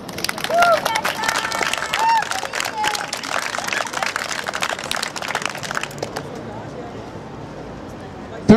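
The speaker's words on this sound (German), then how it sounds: "bitte ich mal um herzlichen Applaus für alle" An outdoor vigil crowd gives warm applause for newcomers, dense clapping with scattered calls and murmuring voices, fairly close, that fades to a quieter hubbub near the end.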